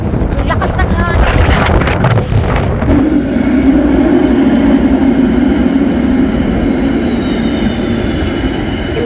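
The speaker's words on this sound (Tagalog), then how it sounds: "Ang lakas ng hangin." Strong wind roars and buffets loudly and steadily across the microphone outdoors, with a deep rumble underneath and a rougher gusty stretch at the start.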